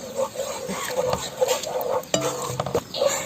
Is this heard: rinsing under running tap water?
no